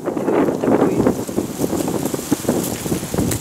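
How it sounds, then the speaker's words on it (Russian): Steady wind gusting and rushing across the microphone in Gechripsh, Abkhazia, a broad rumbling roar with crackling buffeting throughout. "Ветер не шуми."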